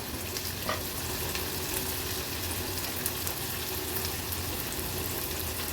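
Onion and chillies sizzle loudly in hot oil, a continuous crackling hiss up close, with faint stirring underneath and no voices.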